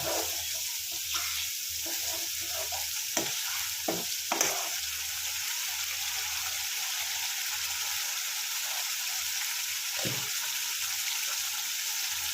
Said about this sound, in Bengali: আমি হলুদটা দিয়ে দিলাম মশলাটা আমি ভালো করে ভেজে নিচ্ছি